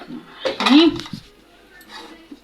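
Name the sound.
pot of rice being placed on the stove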